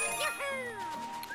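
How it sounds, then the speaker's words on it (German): Bright ringing bell jingle as a bell is grabbed in Super Mario Bowser's Fury, a quick cluster of chiming tones with a short sparkling tail, clear and close. "Ich will meine Glocke haben."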